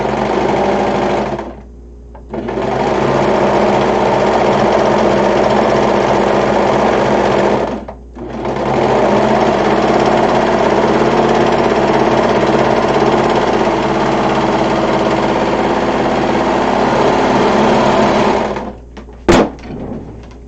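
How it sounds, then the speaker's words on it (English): A sewing machine runs in long, steady, loud bursts, with two brief pauses between runs of stitching, then stops near the end with a sharp click. "I should probably stitch it one more time just to be safe"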